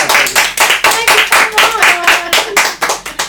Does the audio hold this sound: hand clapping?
yes